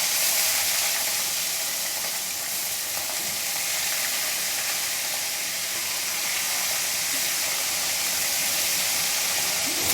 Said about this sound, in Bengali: এবারে বাকি মাছগুলো তেলে হালকা লাল করে ভেজে নেব